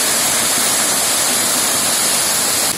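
Periyamalai waterfall pours heavily in a loud, constant roar of rushing water, dense and unbroken, with no one speaking.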